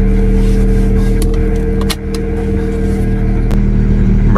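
A Mazda RX-7 rotary engine droning loud and close from inside the car while driving with a stick shift, a steady low hum with a brief dip around a gear change.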